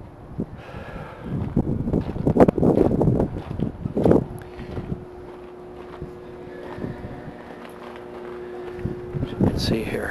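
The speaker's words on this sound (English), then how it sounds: "A lot of wind, I know." Gusty wind blowing outdoors around an AM transmitter shack and lamp post, buffeting the microphone in rough bursts, with someone talking over it and a steady hum underneath.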